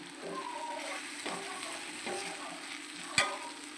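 Kothu parotta ingredients being sautéed in a pan for a hotel-style dish, a steady close sizzle with stirring scrapes and a sharp metallic clack near the end.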